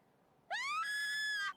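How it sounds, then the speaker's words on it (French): A single drawn-out, rising scream rings out alone for about a second in the video game Dragon Quest XI, loud and tonal against a quiet background. "Quelqu'un crie."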